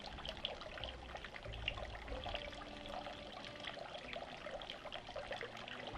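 Maple syrup pours into a hot chocolate mixture of cocoa powder and vanilla extract with a soft, steady trickle, faint and close, lasting several seconds.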